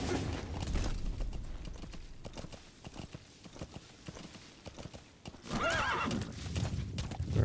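D-Horse in Metal Gear Solid V gallops with rapid, rhythmic hoofbeats, then lets out a clear, fairly loud neigh near the end.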